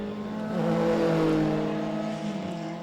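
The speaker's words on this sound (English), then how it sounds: "Still 4 laps to go for race 2 of the heritage touring cars" Heritage Group A and C touring race cars racing at Winton in Australia, a loud sustained engine roar close by that swells and eases as several cars hold high revs together.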